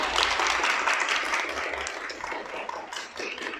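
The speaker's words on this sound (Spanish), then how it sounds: "Un aplauso y una bendición a nuestra líder." A church congregation at a children's worship service claps for their pastor's birthday. A brief, fairly loud burst of mixed clapping that gradually eases off over a few seconds.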